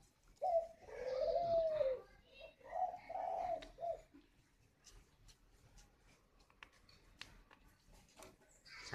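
Spotted doves coo twice in soft, rhythmic phrases near the start, then fall quiet, leaving faint scattered ticks and rustles in a hushed setting.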